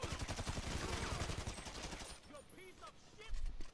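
Rapid gunfire from GTA 5 rattles in close, dense bursts for about two seconds, then thins to scattered sharper shots and chirpy effects before a final heavy burst near the end.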